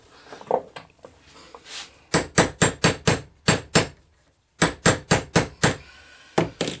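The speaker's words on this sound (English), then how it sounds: "Hammer." A hammer strikes metal lightsaber hilt parts for a Luke Skywalker Return of the Jedi replica, loud sharp blows in two quick bursts of about six evenly paced hits, after a few lighter taps.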